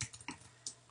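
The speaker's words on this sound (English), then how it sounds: "I'm holding down the shift key so I can get all caps, and I'm typing in voucher." A few light keystrokes on a computer keyboard while someone types a word with the shift key held, as when entering text in Adobe InDesign. The clicks are close, quiet and scattered over a second, with no talking.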